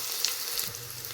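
Onion and green chili frying in oil with mustard seeds, a soft, steady hiss of sizzling close by, fairly faint and continuous over a short stretch with no talking.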